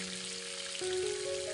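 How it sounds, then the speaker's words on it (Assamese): Tomatoes fry and are stirred in a pan over a low flame, a soft, steady sizzle under a faint, constant electrical hum. "এনেকৈ অলপ সময় কম জুইতে লৰাই ভাজি থাকিলোঁ"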